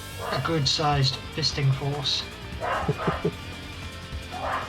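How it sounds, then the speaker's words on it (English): Dogs barking in a house garden, several sharp yips and barks in short bursts somewhat in the background, mixed with someone talking over them. "Apologies for the barking in the background."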